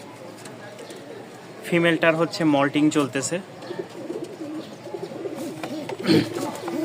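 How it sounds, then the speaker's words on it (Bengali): Several fancy pigeons with foot feathers in a loft, throaty cooing in short rolling phrases close by, mixed with someone talking over them. "এখানে তিন পিচ কবুতর"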